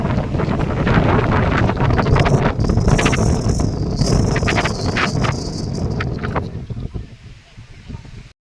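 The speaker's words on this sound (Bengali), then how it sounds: "আকাশ কালো করে প্রচণ্ড ঝড় বৃষ্টি শুরু হলো" A heavy storm of wind and rain sweeps over a caravan parking area in Austria, a loud continuous roar of gusting wind buffeting the microphone, easing and thinning toward the end.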